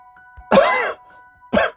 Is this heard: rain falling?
no